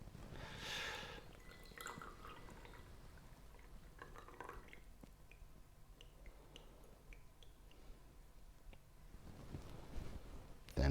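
Brewed gyokuro green tea is poured from a small teapot, with soft trickling and dripping at the start and then faint drips fading out in a quiet room.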